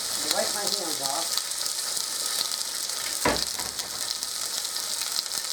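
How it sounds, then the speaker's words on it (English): A pork sirloin roast sears in a very hot pan, a steady loud sizzle and crackle running throughout, with a brief louder burst of spitting midway. "I'm just going to sear this on all four sides"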